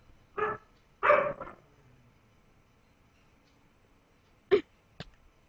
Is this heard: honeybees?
no